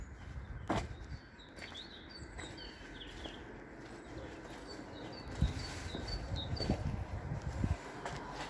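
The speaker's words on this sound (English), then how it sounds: "So that's a beautiful sound, the birds singing." Birds sing in a Whitehaven, Cumbria cemetery, faint scattered chirps and short phrases over a soft outdoor background, with a few nearby knocks and rustles.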